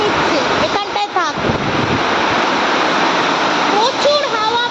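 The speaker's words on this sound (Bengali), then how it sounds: "প্রচুর হাওয়া, পুরো ঝড়ের মতন বৃষ্টি, মুষলধারে বৃষ্টি" Torrential rain driven by strong wind roars as a dense, loud, continuous wash of noise, with brief voice-like sounds faintly mixed in underneath.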